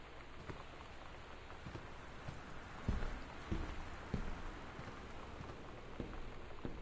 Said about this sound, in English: Why does it have to be raining and like thundering?